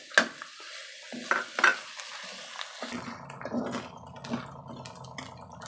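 A spoon stirs onions and chillies in a hot pan for chicken biryani, scattered clinks and scrapes first, then a quiet sizzle with soft intermittent stirring.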